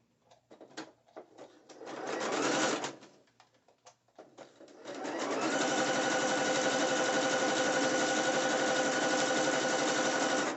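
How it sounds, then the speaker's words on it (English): Sewing machine zigzag stitching braided elastic onto a net thong bikini: a few short bursts of stitching, then a long steady run of fast, even mechanical whirring, close and alone. "I'm going to put in the longest setting fold or zigzag. All right, and I'm just going to stitch it down."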